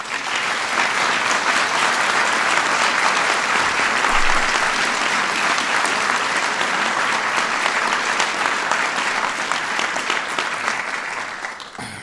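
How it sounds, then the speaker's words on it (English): A large audience at a formal national science and technology medal ceremony bursts into loud, dense, sustained applause that holds steady for about twelve seconds before starting to taper. "give all of them a big round of applause"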